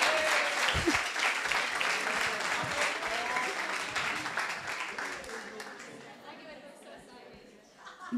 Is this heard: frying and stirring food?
no